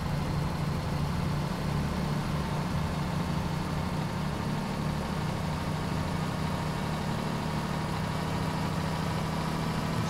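A Setra S215 SL bus engine in Omsi 2 drones steadily at high speed near its top limit, a constant low roar with road noise and no change in pitch throughout.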